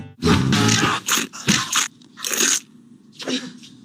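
Several loud, crisp crunching bursts of Lotus crispy snack being bitten and chewed, close up, with short pauses between bites.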